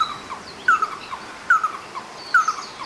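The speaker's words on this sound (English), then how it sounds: "it's making a cool bird call I really like" A bird calls at Honolulu Zoo in the African savanna area, giving three evenly spaced, fairly loud chirping phrases over soft outdoor ambience with no talk.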